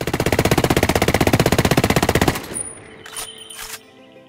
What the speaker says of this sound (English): So with the G2 in full auto mode, we'll now fire and time it to see how long it takes.